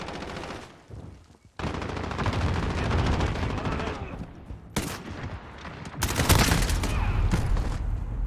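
Rapid hip-fired automatic gunfire in the shooter game Warzone comes in dense, loud bursts with a short gap early on and sharp, brighter volleys toward the end. Faint game chatter sits underneath.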